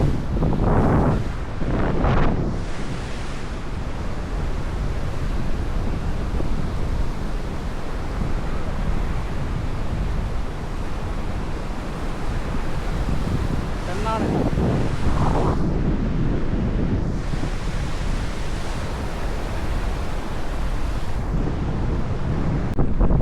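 Sea waves break where the Penna river meets the ocean, a continuous loud surf roar mixed with gusting wind buffeting the microphone, with a few louder wave crashes and no speech.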